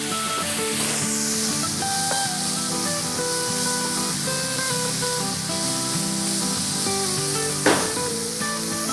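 Tomato and onion sautéing in a little oil in a pan, a steady close sizzling hiss running throughout with a brief scrape near the end and no talk.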